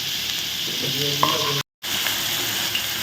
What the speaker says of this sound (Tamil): நல்லா மிக்ஸ் பண்ணி காயெல்லாம் வதங்க வச்சோம்